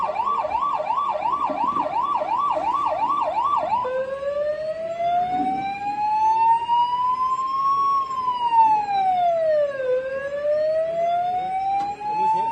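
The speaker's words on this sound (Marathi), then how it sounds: "अँब्युलन्सचा सायरन" A loud siren wails nearby, first in a rapid warbling pattern, then switching to slow rising and falling sweeps.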